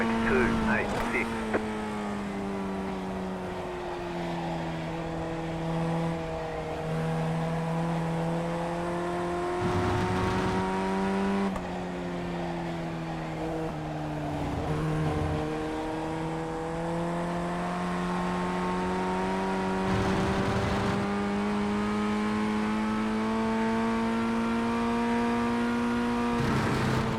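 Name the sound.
Formula 1600 race car engine in iRacing video game hot lap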